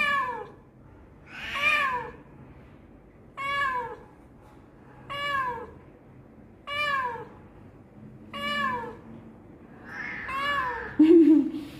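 A cat meows repeatedly, about seven drawn-out meows at steady intervals, close and clear with no talking.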